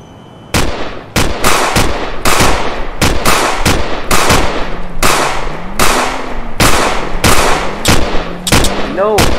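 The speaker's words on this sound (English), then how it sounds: "I need to shoot them." Loud gunfire in a Cyberpunk 2077 knock-off video game: a rapid run of sharp, close shots with short uneven gaps, cracking out over nine seconds while a voice speaks faintly underneath.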